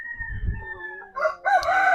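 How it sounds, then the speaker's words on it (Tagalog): A rooster, an Asil, crows loudly nearby, a long drawn-out call, followed by a couple of shorter clucking bursts from chickens. "So ayan sila, yung mga manok natin"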